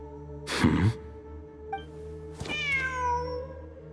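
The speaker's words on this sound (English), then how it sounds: "The cat!" A cat meows in Genshin Impact during a Sumeru quest, two short calls over steady game background music, the second a longer, rising-then-falling mew.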